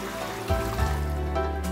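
Water running and splashing as soaked green peas are washed in a kitchen, a continuous watery rush with a low hum underneath.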